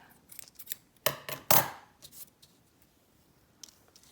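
Scissors snip through a sheet of paper, cutting it in half for book-page ephemera crafting, with a few sharp close cuts followed by quieter paper rustling.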